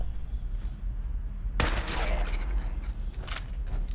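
Loud gunfire from a powerful weapon in the video game Fallout 4 erupts suddenly partway through, a sharp blast followed by a burst of shots and rumbling echo over a low background hum.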